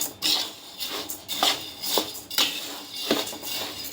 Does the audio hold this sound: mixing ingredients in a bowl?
yes